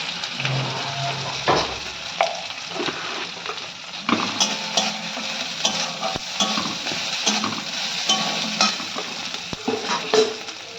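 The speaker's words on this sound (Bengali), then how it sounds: "পেঁয়াজ দিয়ে আদা রসুন দিয়ে, আমার পোস্ততে একটু পেঁয়াজ দিলে ভালো লাগে। এবার পোস্ত দিয়ে দেবো।" Onion, ginger and garlic with poppy seed paste being fried and stirred in a pan for sim posto, a steady sizzle broken by scraping and clinks of a spatula close by, no voices.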